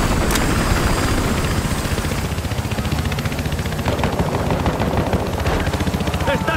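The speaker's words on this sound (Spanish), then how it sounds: "¡Helicóptero de transporte!" Transport helicopter in Battlefield Hardline on the Barrios bajos map: a steady rotor drone under constant automatic gunfire, loud and dense throughout, with voices calling out in the mix.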